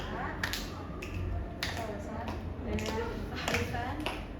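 Sharp hand claps in a regular pattern, roughly every half second, ringing out over a low background murmur of voices.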